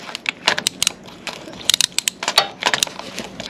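A 24 mm wrench clicking and scraping against the oil filter cover of a Tekken 250 motorcycle, a close series of sharp metallic ticks and clacks in uneven rhythm, heard alone.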